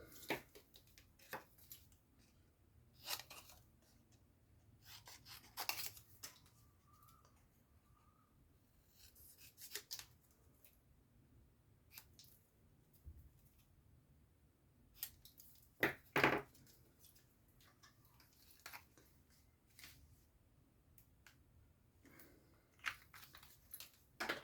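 Paper card stock for a gate fold greeting card being cut out, quiet scattered snips and paper rustles spread across a near-silent stretch, with a few sharper handling noises.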